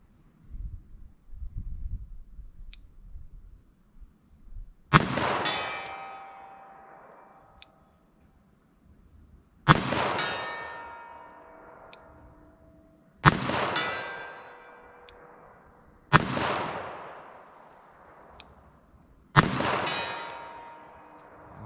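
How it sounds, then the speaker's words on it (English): Five single gunshots from a .38 Special revolver fired at an outdoor 75-yard range, each a sharp loud crack with a long ringing decay, spaced several seconds apart after some quiet handling noise. "Let's see if I can make a hit with our 38 special here."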